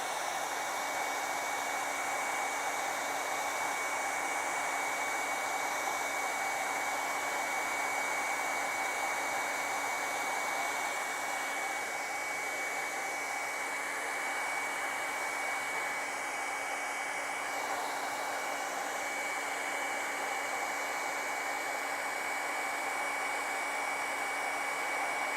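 A hair dryer blows steadily on acrylic paint on a pink dahlia flower painting, a loud, constant close whoosh with a faint whine that runs unbroken for the whole stretch, with no talk.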